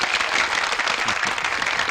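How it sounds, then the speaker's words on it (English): Dense, steady applause from a crowd at a player-owned town gathering in Shroud of the Avatar, filling the whole stretch at an even level with no talk. "Round of applause for Sawtooth."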